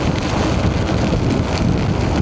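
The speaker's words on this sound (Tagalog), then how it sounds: "Malakas na yung hangin, malakas pa yung ulan." Heavy rain and strong monsoon wind along the Gapan-Olongapo Road in the Philippines, heard during a short ride, make a loud, dense, unbroken roar of rushing wind and pouring water with no voices.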